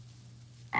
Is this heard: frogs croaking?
yes